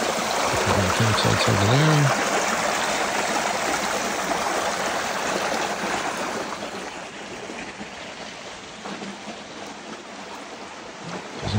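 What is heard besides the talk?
flowing stream, Laurel Fork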